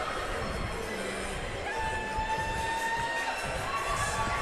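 A partisan crowd at a fight in Fontana, California cheers and shouts in a continuous roar with scattered whistles and higher yells, heard from a distance and fairly faint.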